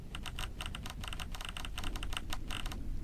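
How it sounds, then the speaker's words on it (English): Rapid, clicky keyboard typing from an Obsidian plugin comes in quick bursts of crisp keystrokes with short pauses, close and fairly quiet, and no voices. "The typing sounds so nice, doesn't it?"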